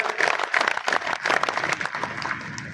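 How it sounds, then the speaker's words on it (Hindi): A crowd at a political rally in Thanagazi, Alwar applauds a popular candidate being welcomed on stage, a dense, steady wash of clapping that holds at an even level for about three seconds. "जोरदार तालियों से इनका स्वागत करें"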